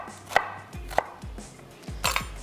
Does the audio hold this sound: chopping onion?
yes